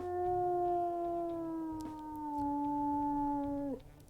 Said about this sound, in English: let's listen to Ezra's howls here